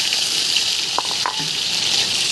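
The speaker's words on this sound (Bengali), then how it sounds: "উচ্ছেগুলো এবার আমি এর সাথে ভালোভাবে তেলে ভেজে নেবো" Pieces of bitter gourd fry in oil tempered with radhuni for a Bengali moong dal dish. A short, steady hissing sizzle runs throughout, with a few faint clicks partway through.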